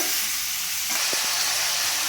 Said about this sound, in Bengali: আমি সমস্ত চিকেনটাই আমি এখানে কড়াইয়ের মধ্যে দিয়ে দিয়েছি। এটাকে খুব বেশি ভাজার দরকার নেই